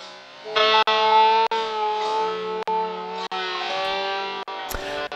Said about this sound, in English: Then obviously we can combine that vinyl effect with our,